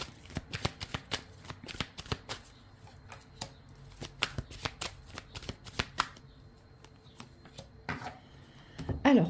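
Manara oracle cards being shuffled by hand, a rapid flurry of crisp close riffles and slaps that thins into scattered softer card sounds toward the end, with no talking.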